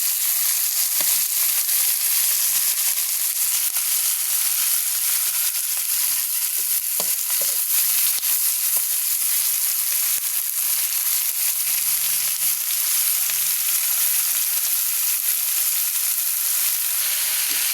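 Chicken adobo with chicken liver sizzles steadily in a hot pan, giving a dense, continuous frying hiss, with occasional faint scrapes and knocks as it is stirred and no talking.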